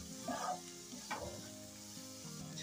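Egg bhurji frying in a pan with green garlic and coriander, a faint steady sizzle with light stirring and scraping sounds, heard alone.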